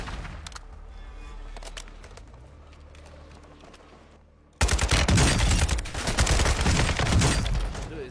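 Rapid gunfire in a first-person shooter video game, a quieter stretch of distant shots giving way to loud, sustained automatic fire and explosions close by.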